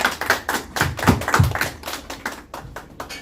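Scattered hand claps from a small workshop group, a loose, uneven burst of taps and thuds lasting a few seconds, fairly close and moderately loud with no talking over it.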